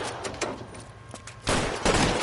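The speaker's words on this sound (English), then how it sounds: "Damn, they're shooting us on sight." Gunfire in an LA Noire shootout as police open fire, a dense continuous fusillade of shots with louder bursts toward the end, loud and steady throughout.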